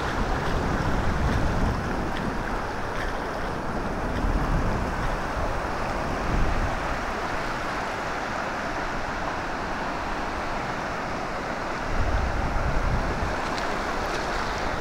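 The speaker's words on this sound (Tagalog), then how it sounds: "Maalon." Rough sea off a small fishing boat in a storm-driven swell, a steady loud roar of waves and wind buffeting the microphone, with periodic surges of water rising and falling throughout and no voices.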